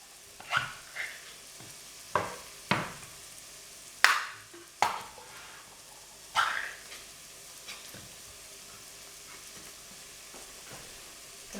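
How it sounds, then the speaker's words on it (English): Tins of tomatoes being opened in a home kitchen, a handful of separate sharp metallic clicks and scrapes at irregular intervals, close and fairly quiet against a hushed background. "I'm just going to open my tins of tomato now."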